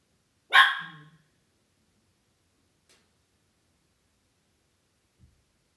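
A single sharp dog bark rings out close by, then near silence with only a faint tick and a soft low thump later.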